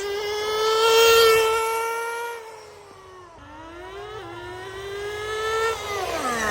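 A nitro RC car engine screams at high revs on a speed run, its pitch sagging and bogging down mid-pass before climbing again, loud and close with no talking.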